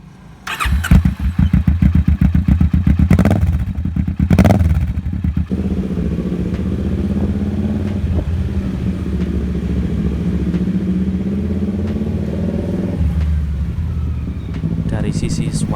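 A 2015 Kawasaki Vulcan S 650 motorcycle with a bobber-style modification and a two-cylinder engine starts with a cranking clatter, then settles into a steady close engine drone as it pulls away and rides, loud and continuous throughout.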